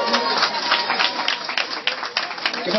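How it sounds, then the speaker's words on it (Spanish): Audience applause on a Spanish-language show, steady dense clapping from a crowd held at an even level for the whole stretch, with no voices over it. "Aplausos para Miguel González"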